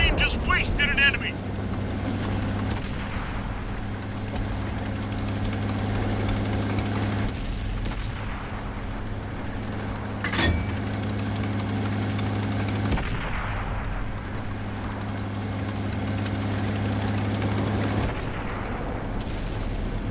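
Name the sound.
damaged Sturer Emil tank engine in World of Tanks video game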